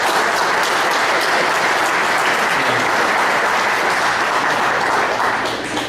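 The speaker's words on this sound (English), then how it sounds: "Can I get a round of applause?" Sustained audience applause fills a general meeting room, a dense, steady wash of many hands clapping at once that holds loud and even throughout before easing slightly at the very end.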